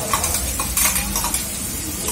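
A paste of onion, tomato and garlic masala fries in a pan for pav bhaji, with a steady close sizzle, soft stirring scrapes and a few light clinks, and no voices.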